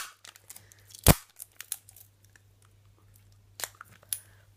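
A sharp ripping tear of adhesive tape cuts in once loudly, surrounded by small crinkles and clicks, with another shorter rip near the end.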